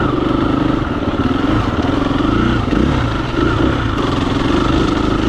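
A four-stroke dirt bike runs on a trail, its engine loud and close with a steady, choppy drone that rises and falls slightly as the rider works the throttle, with no speech over it.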